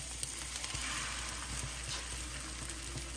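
An egg cooking in a pan with sautéed pepper and onion for a Puerto Rican revoltillo with salt cod, giving a steady close sizzle and crackle with faint scraping stirs and no talking.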